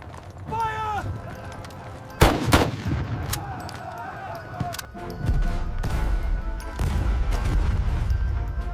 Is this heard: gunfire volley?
yes